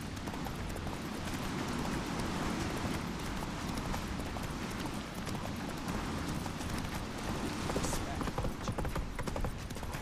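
Hooves of Roach, a horse galloping in the video game The Witcher 3, a fast continuous clip-clop rhythm over steady background noise, with voices heard over it.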